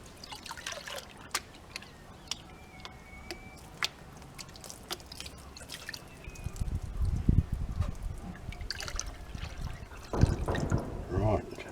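Water sloshes and trickles in a gold pan being worked fairly fast over creek gravels, with soft splashes and drips that swell into louder, busier churning toward the end.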